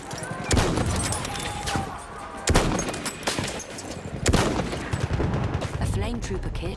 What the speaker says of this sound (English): Enemy machine gun over there.